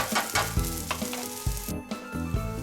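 Whole kernel corn sizzles and crackles steadily in a hot pan as it blackens, with occasional scraping stirs cutting through the frying hiss.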